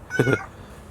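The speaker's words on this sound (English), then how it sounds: "there's my cat" A blind pet cat gives one short, clear meow close by, then the room goes quiet.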